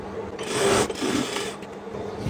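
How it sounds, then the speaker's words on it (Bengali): A sewing machine runs in steady bursts stitching lined georgette fabric on a kameez, a continuous close whir that swells, briefly dips, then resumes and fades slightly. "এইটুক জায়গা আমি সেলাই দিয়ে নিলাম"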